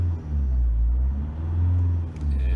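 A Citroën Evasion 2.0 HDi diesel engine with a loss of power and fault codes rises gently from idle, a loud close rumble swelling and falling in two slow waves.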